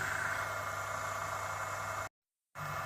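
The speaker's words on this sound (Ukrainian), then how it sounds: "Двигун працює." Electric motor running on a repaired frequency inverter, a steady mid-pitched hum with constant whine, briefly cut to silence near the end before resuming.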